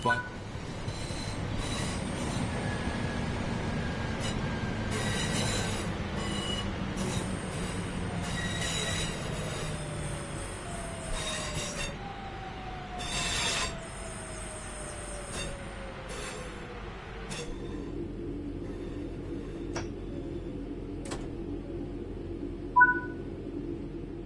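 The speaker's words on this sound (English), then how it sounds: "Bring the train to a stop." A video game train slows to a stop with long, high-pitched wheel squeals and descending brake tones over a steady rumble, ending in a quieter hiss and faint clicks.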